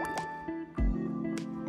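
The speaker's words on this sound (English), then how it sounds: "I combined a bubbling noise and a victory sound I found on freesound.org to create this sound effect." A mobile fishing roguelike game sound effect that blends a wet bubbling, dripping burst with a bright tonal victory chime, heard twice in quick succession with sustained ringing tones and no talk.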